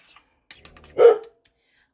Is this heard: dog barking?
yes